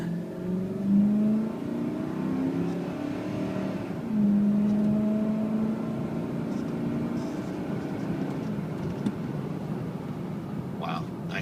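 A 2007 Ford F150 4x4 pickup drives along with a steady engine hum that rises and eases as it accelerates, heard from inside the cab while a person talks over it.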